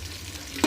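Diced capsicum, chilli, potato, green peas and sweet corn frying in a pan for veg paneer biryani, a soft steady sizzle with one brief louder scrape of stirring near the end.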